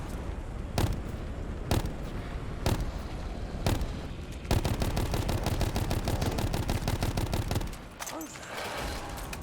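Gunfire from a rapid-fire operator-mod weapon in Black Ops 4 Zombies: a few spaced single shots, then a long, fast, continuous burst of loud rounds that stops abruptly near the end.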